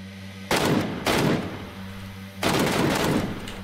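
Heavy single-fire shots from a gun in PlayerUnknown's Battlegrounds boom out three times at uneven intervals, each loud blast followed by a long rumbling echo, with no talking.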